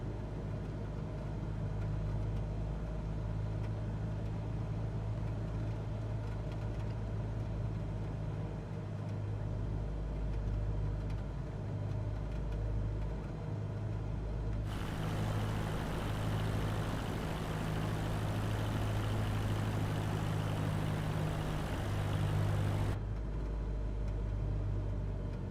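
An aircraft engine drones steadily in flight with a little throttle applied, a continuous deep hum and rumble that is joined midway by a broad wash of hiss for several seconds before settling back.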